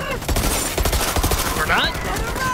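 Rapid burst-fire gunshots from the video game Borderlands 3, crackling loud and dense throughout, with a voice talking faintly underneath.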